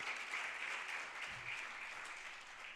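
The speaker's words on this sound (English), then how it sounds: "Let's give them a big round of applause." Faint, steady round of applause from a campaign launch audience, a soft even patter of clapping heard at a distance with no voices over it.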